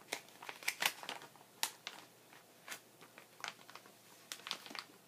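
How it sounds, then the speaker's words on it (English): Scissors snipping through a plastic sheet protector at a craft table, a run of sharp crinkly cuts and rustles, close and fairly quiet, with uneven pauses between bursts. "I want to cut my sheet protector"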